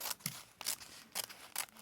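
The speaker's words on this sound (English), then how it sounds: "Take the scissors to that bit" Scissors snipping through a piece of paper map for a vintage junk journal: five quick crisp cuts in an uneven rhythm, close and quiet, with no talking.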